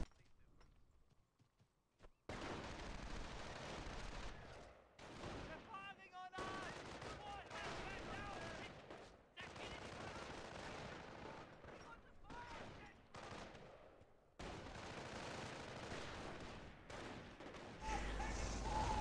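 Gunfire rattles through a strategy video game battle: dense bursts of small-arms and machine-gun shots mixed with clattering effects, nearly continuous after a quiet start and broken by brief gaps.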